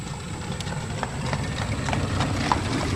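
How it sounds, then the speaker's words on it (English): A horse and buggy passes along a road in Burgholz, the hooves beating a steady, moderately loud clip-clop over a constant rumble of wheels and road noise. "My cousin Eli just went by in his horse and buggy"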